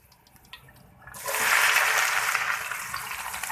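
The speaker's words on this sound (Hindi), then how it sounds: "अब हम इसमें प्याज डालेंगे।" Sliced onions hitting hot oil in a pan, with a loud sizzle bursting in after about a second and holding steady to the end, alone without talk.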